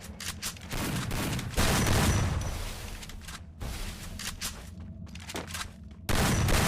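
Gunfire in the battle-royale shooter Free Fire, repeated bursts of automatic shots and booms in several clustered volleys, loud and close, with no talking.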